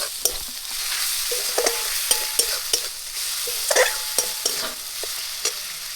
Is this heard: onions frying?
yes